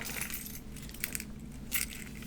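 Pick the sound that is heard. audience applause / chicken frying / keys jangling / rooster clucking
keys jangling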